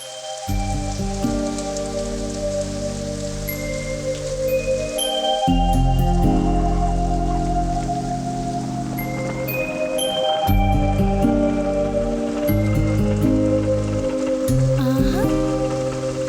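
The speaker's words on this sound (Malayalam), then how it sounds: "എന്തൊരു മഴ!" Heavy rain pours steadily throughout, with sustained tonal music playing over the downpour.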